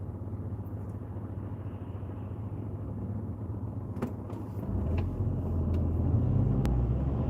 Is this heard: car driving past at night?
yes